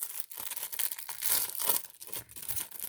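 Foil football trading card packs being torn open up close, a steady loud crinkling and ripping of wrappers running through the whole stretch with no talk over it.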